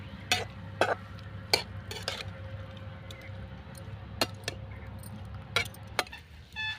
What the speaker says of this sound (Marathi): मस्तपैकी भाजी ही परतली गेली आहे